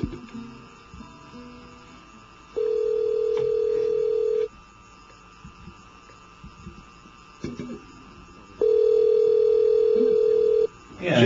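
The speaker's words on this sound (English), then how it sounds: "I'm dialing the number of Mr." A telephone call goes through with two long, steady ringing tones on the line, each about two seconds, separated by quiet stretches over a low background hum.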